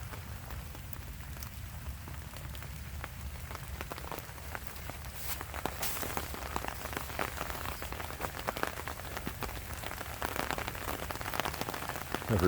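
Rain falling in wet woods, a steady dense patter of drops on leaves and surfaces, close and continuous with no talk.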